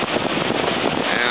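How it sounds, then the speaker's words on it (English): Floodwater surges out of the open gates of Wivenhoe Dam, a loud, dense and continuous roar with wind buffeting the microphone. "there's just a terrific amount of water pumping out"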